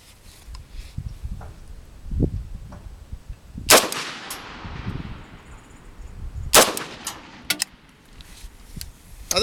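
Two sharp, loud gunshots from an AK VEPR rifle fitted with a muzzle brake, fired outdoors several seconds apart, each with a long echoing tail, plus some handling clanks and rustle between shots.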